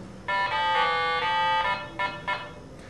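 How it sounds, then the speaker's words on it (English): A homemade electronic synthesizer plays a few buzzy, horn-like tones of Mary Had a Little Lamb, the notes stepping in short bursts over background hiss, moderately loud with no voices. "So I've tried to do the first whatever bar of Mary Had a Little Lamb."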